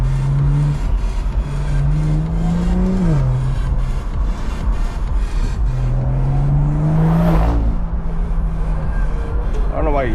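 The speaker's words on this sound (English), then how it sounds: "That's a V6." A V6 car engine drives along a parkway at night, rising and falling in pitch as it accelerates and shifts, steady and close throughout, with a passing whoosh near the end and people talking over it.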